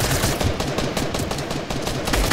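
Rapid gunfire in Fortnite, a fast burst of repeated shots crackling close and loud for the whole couple of seconds, with no talk over it.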